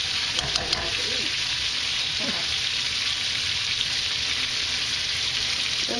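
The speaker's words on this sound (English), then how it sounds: "we're cooking it slowly so we get a nice golden brown" Chicken piccata fries slowly in a pan with a loud, steady, even sizzle that holds without a break from start to finish, with only a couple of faint clicks early on.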